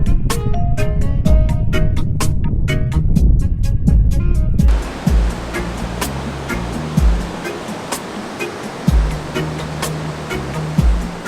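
Ocean surf rolls in at La Jolla, a steady broadband wash of breaking water that keeps rumbling and hissing close by, with some scattered clicks and knocks over the roar.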